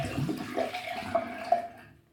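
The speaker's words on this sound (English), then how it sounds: "I'm gonna pour out the water from the scuttle here." Water is poured out of a shaving scuttle, a short splashing run at moderate level that tails off into quiet, with no voices.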